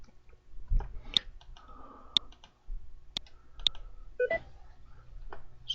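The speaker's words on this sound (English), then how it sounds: "So then you click save and close." Computer mouse clicks while saving an invoice in QuickBooks bookkeeping software, a few sharp isolated clicks spaced out over a quiet room with faint handling noise.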